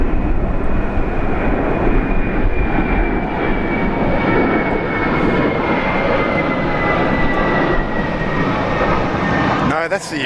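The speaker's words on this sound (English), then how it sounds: "What a beautiful takeoff, Jetstar." A Jetstar airliner takes off at Sydney International Airport, a loud sustained jet engine roar with a steady rising whine lasting throughout, heard from nearby.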